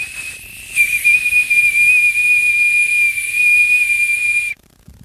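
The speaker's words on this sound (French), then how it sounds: "J'en avais fait un à Alexandre, il le tournait à l'envers, il sifflait mieux." A handmade ash wood whistle gives one long, steady, piercing tone, close and loud with a breathy hiss, held for nearly four seconds before cutting off abruptly into quiet.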